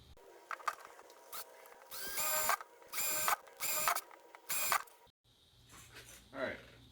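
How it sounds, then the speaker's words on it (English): A power drill bores holes for a bulkhead fitting in a compact flood-and-drain hydroponic system, giving four loud bursts of whining drilling separated by short pauses, followed by quieter handling noise. "got the holes drilled, just cleaning them up."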